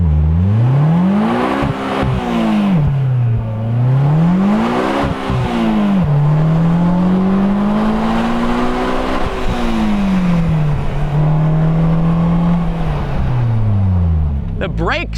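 A 2020 Polaris Slingshot roadster revs out toward 8,500 rpm, its loud engine note climbing and falling through gear changes under acceleration, steady and close throughout with a voice talking over it.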